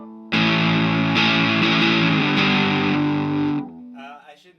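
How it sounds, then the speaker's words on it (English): Single-coil guitar fuzz through an Earthquaker Devices Sunn O))) Life Pedal with the distortion fully up: one thick, saturated chord rings loud and steady for about three seconds, then cuts away and fades. "So here's the fuzz from the single coil, the distortion all the way up."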